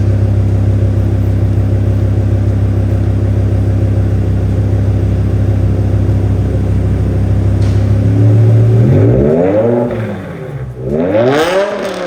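A BMW E60 M5 engine idles steadily, then revs up in several short rising and falling bursts, loud and close.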